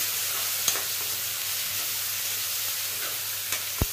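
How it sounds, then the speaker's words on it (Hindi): Onions fry in a pan for an elephant foot yam curry, giving a steady, soft hiss of sizzling oil. A few faint knocks from stirring punctuate it, and no one speaks. "इसमें डालेंगे प्याज और प्याज को अच्छे से भूनेंगे"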